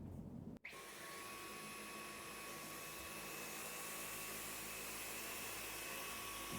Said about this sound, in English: First, I will do the cleaning with medium mode. Now, let's try it.